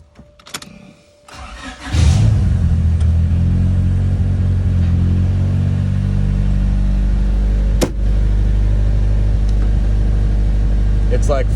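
Small single-cam car cranks briefly, catches and starts, then settles into a loud, steady, rumbling idle that continues to the end with one short blip midway.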